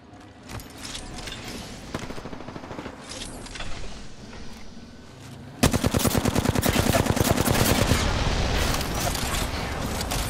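Automatic weapon fire in the Apex Legends battle royale, on the Olympus map in ranked play, with scattered shots early on before a loud, sustained burst of rapid gunfire from about the midpoint to the end.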